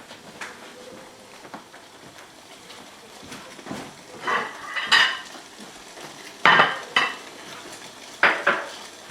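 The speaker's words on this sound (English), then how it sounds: "First, let me just stir this together." Food stirred in a pan with a utensil, giving scattered scrapes and a few sharp metallic clinks that grow louder toward the end over a quiet kitchen background.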